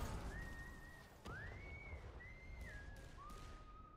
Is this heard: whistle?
yes